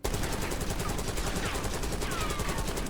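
A Krig C assault rifle fires in Call of Duty, a dense, unbroken automatic burst that stays loud and close for the whole stretch.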